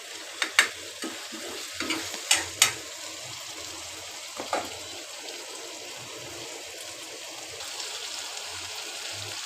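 Hilsa fish in a spiced masala, simmering in a pan alongside eggplant, sizzle softly and steadily while a utensil scrapes and taps the pan in a few sharp clicks.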